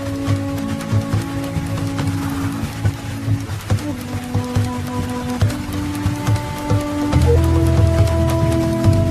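Heavy monsoon rain pours steadily through an Indian forest, a dense continuous hiss with low droning tones and swelling music layered over it.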